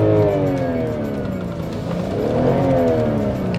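A BMW 523i with a naturally aspirated six-cylinder engine revs in neutral, its smooth, loud note rising and falling in pitch with the throttle, close by and with no talk.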